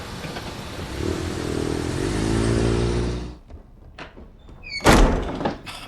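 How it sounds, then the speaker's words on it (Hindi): A door shuts with a solid thunk after a loud rumbling engine-like drone fades out, followed by a short clatter; the sounds are close and loud, with no talking. "दरवाजा कौन बंद कर रहा है?"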